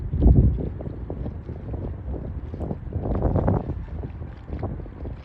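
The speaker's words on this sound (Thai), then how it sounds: "เรือลำนี้มันวิ่งช้ามาก" Slow-moving boat chugging across water, a steady low rumble and wash with gusty wind buffeting the microphone throughout, no talking.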